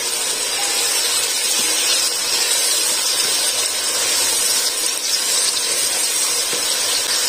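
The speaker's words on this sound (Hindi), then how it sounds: "प्याज के साथ साथ हमारा चिकन भी फ्राई हो जाएगा" Chicken pieces frying with lightly pink onions in a pan for gobi chicken make a steady, dense sizzle and hiss that stays close and even throughout, with no voices over it.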